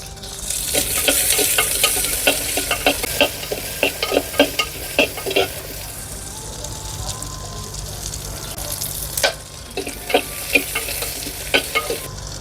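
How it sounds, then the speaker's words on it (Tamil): Ingredients, small onions and green chillies, frying in oil for a village-style wood-fire fish curry: close, lively sizzling with rapid scraping stir strokes, a quieter pause midway, then more stirring, with a voice faintly under it. "இதை போட்டு நல்லா கிண்டிக்கோங்க எண்ணெய் கொஞ்சம் கூட ஊற்றிக்கோங்க"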